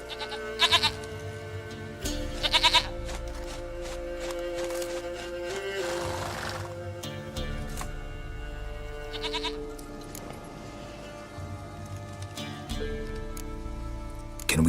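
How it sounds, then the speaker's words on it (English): Repeated goat bleats from The Witcher 3 ring out over a steady game soundscape, short quavering calls spaced several seconds apart with a longer drawn-out cry in the middle; no speech. "Goat of mine, dearest,"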